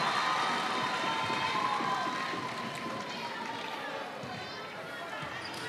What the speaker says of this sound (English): The crowd is cheering every move, every catch from Team Barbados.